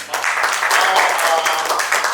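Audience applause for a speaker at a philanthropy breakout session on data and technology, a steady wash of clapping lasting a couple of seconds at moderate loudness.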